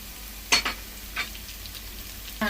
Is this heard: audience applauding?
no